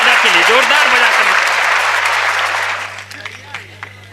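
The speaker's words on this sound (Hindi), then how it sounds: "ताली ढंग से बजाओ दादा के लिए, जोरदार बजा कर।" Loud applause from an audience at a Hindi poetry recital, a dense burst of clapping that fades out over a few seconds, with a voice speaking over it at the start.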